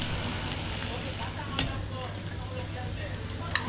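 Green chili and spices fry in hot oil in a pan with a steady, close crackling sizzle, plus a couple of sharper pops and faint stirring.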